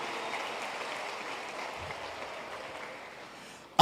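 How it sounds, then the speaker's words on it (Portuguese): Audience applause in a church service, a soft, steady wash of clapping heard from a distance that fades gradually, ending with a brief sharp bump. "mais uma salva de palmas para ele"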